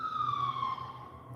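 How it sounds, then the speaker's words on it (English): An ambulance siren wails in the distance, one rising and falling tone that sweeps gradually downward as it passes and fades, faint and alone. "But, there's an ambulance."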